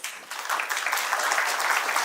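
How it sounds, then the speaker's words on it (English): Audience applause at a JEE coaching seminar greets an administrative staff member: steady, dense clapping from a sizeable crowd, building slightly and holding at moderate loudness with no voices over it. "have a warm applause, please"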